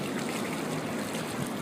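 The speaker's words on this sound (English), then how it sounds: "I love the sound of running water." Running water with a steady, even trickling and rushing texture like an overflowing bathtub, close and continuous with no voices.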